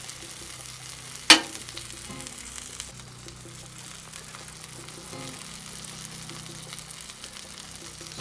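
Turkey sausages sizzle steadily in pork grease on a Blackstone griddle, a close, continuous frying hiss with a sharp clack of a utensil near the start and occasional scraping.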